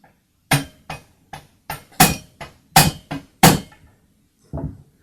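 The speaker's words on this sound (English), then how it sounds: "Now I'll use a screwdriver and a hammer again to seat the clutch onto the saw" Sharp metallic hammer taps on a screwdriver, seating a clutch onto a chainsaw, ring out one after another, about ten in all and unevenly spaced, close and clear in a quiet setting.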